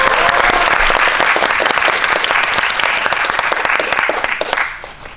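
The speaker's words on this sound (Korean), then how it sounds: "모두 환영의 큰 박수 부탁드립니다." An audience at a film screening event gives loud, dense applause welcoming the director and actors of Concrete Utopia, sustained clapping that tapers off in the final half second.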